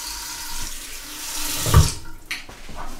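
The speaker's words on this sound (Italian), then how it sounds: "Risciacquare, acqua tiepida" Warm tap water runs steadily into a sink while a face is rinsed after a wet shave, with splashes and a few louder surges of water close by.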